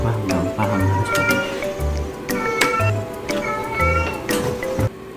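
Played-back recording of a cat meowing repeatedly in a classroom, the meows close and clear, with children's voices chattering underneath.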